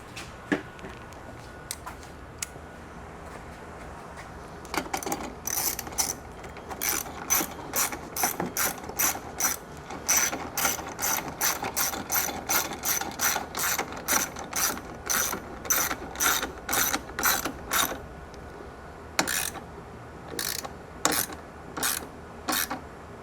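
A hand ratchet tightens the bolts of a TOM'S chassis brace on a GR Corolla, its rapid clicking in repeated close bursts with short pauses between strokes.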